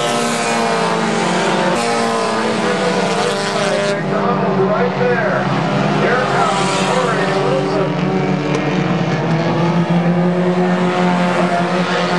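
Race car engines roar continuously around a dirt speedway oval at Capital City Speedway in Ottawa, a Honda Civic among them, with loud sustained engine drone and shifting revs under an announcer's voice.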